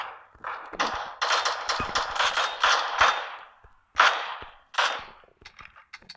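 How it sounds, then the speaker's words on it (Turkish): Bursts of gunfire in the mobile battle royale game PUBG Mobile, with a long sustained run of shots followed by two shorter volleys, loud and close with no talking. "Çok değişik vuruyorum adama ya."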